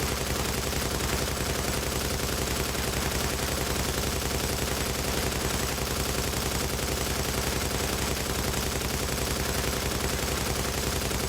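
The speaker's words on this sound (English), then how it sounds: "you just put on your trusty M60, and this thing's pretty stable" An M60 machine gun firing in The Division on PS4, a continuous, saturated stream of rapid automatic gunfire that stays loud and unbroken throughout, with no talk.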